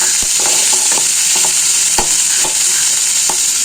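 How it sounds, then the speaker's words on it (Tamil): Onion, tomato, garlic and curry leaves sauté in a pan for a lentil-ball kuzhambu, a steady close sizzle with a few sharp clicks of stirring scattered through. "இது நல்லா வதங்கட்டும்"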